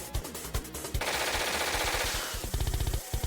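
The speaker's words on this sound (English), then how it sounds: "Now we can shoot this guy." Loud, rapid gunfire from the 1996 Sega CD game Shadowrun, dense bursts of automatic shots crowding together with a sustained harsh roar in the middle, no voices.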